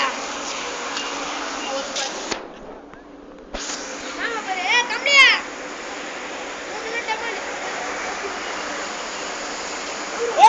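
Water released from a well flows through an open channel with a continuous rushing, splashing hiss, close and steady, briefly cut off midway, while people talk over it.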